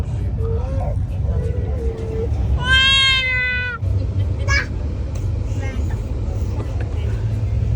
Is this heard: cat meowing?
yes